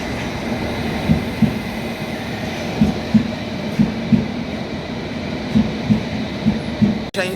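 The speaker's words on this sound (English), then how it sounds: "Train just arrived." A London Underground train arriving from Chesham rolls in with a continuous rumble and rhythmic clacks of wheels over rail joints, steady and close.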